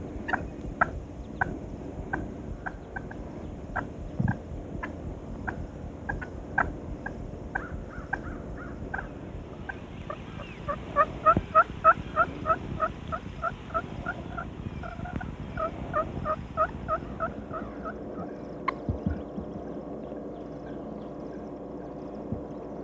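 Wild turkeys call outdoors: rapid, excited yelps and cutts, with a slate friction call imitating a hen's excited calls and gobbles, in irregular clucking bursts, fairly close and with no talk.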